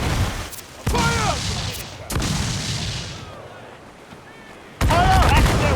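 Naval cannon volleys and gunfire during a ship battle in Assassin's Creed 4: Black Flag, with several heavy booming blasts landing in bursts and ringing decay between them, and shouted commands heard around them.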